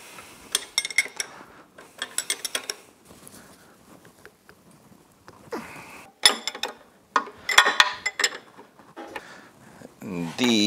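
Ratcheting and clanking wrench work while tightening exhaust bolts on a Yamaha F225 outboard, in several bursts of rapid metallic clicking with short pauses between, close and moderately loud.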